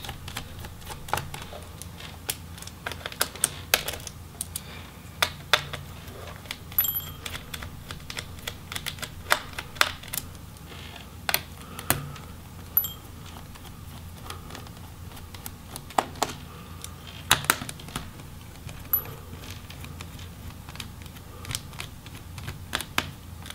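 Screws being removed from a Lenovo Y50-70 laptop, heard as scattered small clicks and taps against the casing over a low background, close and fairly quiet, without speech.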